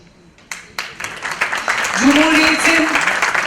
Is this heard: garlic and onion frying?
no